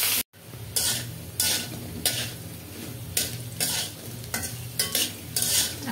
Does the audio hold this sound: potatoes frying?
yes